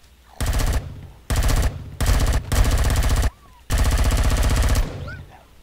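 Loud automatic gunfire from the video game Empyrion rattles in four sustained bursts separated by brief pauses, each a dense rapid stream of shots.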